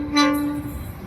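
Locomotive 8234 leads a passing train, sounding a loud, sustained horn blast that peaks early and then fades into steady rumbling rail noise; no voices.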